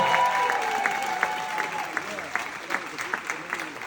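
An audience at the 2024 City College convocation applauds after a jazz student's performance, scattered claps rising against lingering tones and a voice, building a little toward the end.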